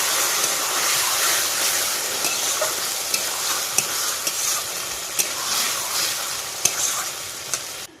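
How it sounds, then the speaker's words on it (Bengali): Fish frying in a sizzling spice paste of bay leaf and spices, with a steady hiss and scattered sharp scrapes and clicks of a spoon stirring against the pan, close and continuous throughout, with no voices. "মশলা কষিয়ে বন্ধুরা মাছ দিয়ে দিলাম"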